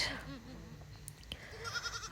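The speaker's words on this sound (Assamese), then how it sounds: "ছাগলী পোৱালিটো পূৰা চিঞৰি আছে" A young goat kid bleats in a village setting, several short thin bleats near the start, then fainter cries over a rural background.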